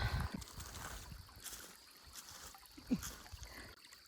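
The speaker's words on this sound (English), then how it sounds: "the trickling water is called Pond Creek" Faint trickling water of Pond Creek in the Castor River Conservation Area, soft and uneven gurgles and splashes heard from close by with a small splash near the end, with no voices.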